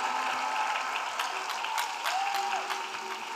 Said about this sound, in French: Yes, clap for Jesus Christ.